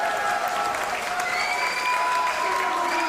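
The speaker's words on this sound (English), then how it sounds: "As this crowd explode." A wrestling crowd cheers and applauds loudly at a tag-team match, a dense roar of clapping and shouts that stays constant and close throughout.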